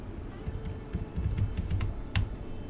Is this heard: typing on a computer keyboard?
yes